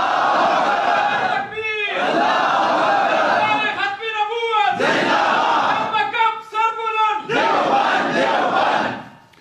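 At a religious lecture, a large crowd chants slogans in loud unison bursts with brief pauses between, the massed voices rising and breaking off in waves close by.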